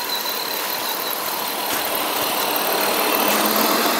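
A UAZ off-road vehicle's engine labours steadily while pulling in a tug-of-war on slippery ground, a loud, unbroken drone throughout.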